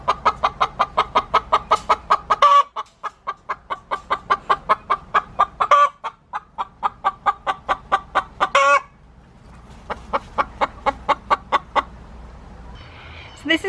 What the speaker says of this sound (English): We have our first hen in broody jail, and she is not happy about it.